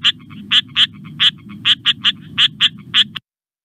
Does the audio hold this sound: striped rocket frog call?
yes